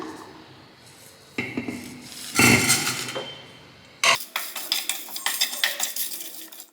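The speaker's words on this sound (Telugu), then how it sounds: "వీటిని నూనె లేకుండా ఎర్రగా దూరగా ఫ్రై చేసుకుందాం" Dry red chillies, coriander seeds and sesame seeds are roasted without oil in a pan, with a spoon scraping and clinking against the metal in irregular bursts and the seeds rattling, loud and close, with quiet gaps between.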